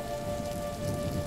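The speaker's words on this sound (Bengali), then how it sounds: "বাইরে দেখো তো কেমন অন্ধকার আর ঝড় চলছে" Steady rain falling outside during a dark storm, heard as a continuous even wash of patter with a faint low rumble beneath and no voices.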